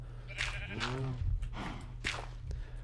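Sheep in the Minecraft video game bleat several times, close and clear, with short wavering calls spaced about a second apart over a low steady hum.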